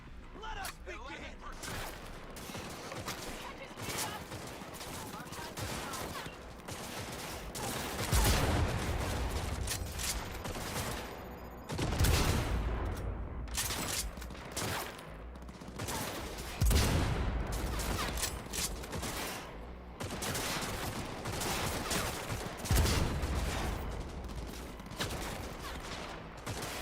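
Rifle fire during the assault on Arasaka in Cyberpunk 2077 crackles in repeated bursts and volleys, with heavier booms every few seconds, and voices talking intermittently over the shooting.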